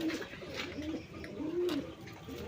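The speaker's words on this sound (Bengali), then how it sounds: "এটা হচ্ছে মিলি রেসার কবুতর" Mili racer pigeons coo close by in a series of soft, rolling throaty calls, one longer coo standing out in the middle over a faint steady background hum.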